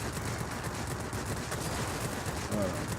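An aircraft cannon on a La-15 jet fighter fires in a combat flight video game, a continuous dense rattle of rapid shots over loud engine roar, sustained for the whole span.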